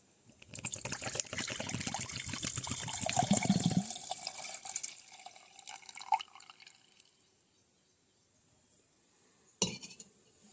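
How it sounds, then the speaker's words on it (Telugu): Coconut water drains from a freshly opened coconut into a vessel, a steady trickling pour for about four seconds that thins to drips, then silence and a final clink. "ఇప్పుడు మనమైతే కొబ్బరి నీళ్ళు తీసేసుకుందాం"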